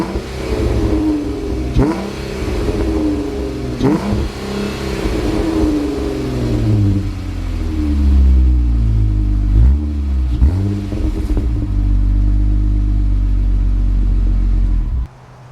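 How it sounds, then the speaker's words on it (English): A 2015 Jeep Wrangler with an aftermarket exhaust revs up several times, each burst rising into a deep, loud rumble, then holds a sustained throaty drone before cutting off abruptly. "you have an aftermarket exhaust that sounds so great"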